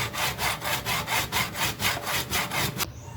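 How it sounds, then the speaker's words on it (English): Hacksaw cutting open an induction motor capacitor, about ten quick rhythmic rasping strokes, close and loud, stopping abruptly near the end. "it's better to just use a hacksaw"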